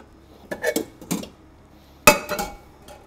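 A few short clanks and knocks of a metal cooking pot being picked up and set down in a kitchen, close by in a quiet room, with a sharper clatter midway.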